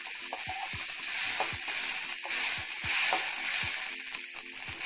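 Crab roast is stirred as it fries in a pan, a constant sizzle broken by repeated soft scraping strokes of the spoon at a steady rhythm, fairly close and without speech.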